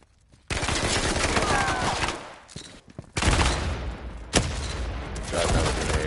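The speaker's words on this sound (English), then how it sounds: "Motherfuckers blind firing!" Heavy gunfire in the PSVR shooter Firewall, loud sustained bursts of rapid shots crackling almost continuously, with brief pauses between volleys.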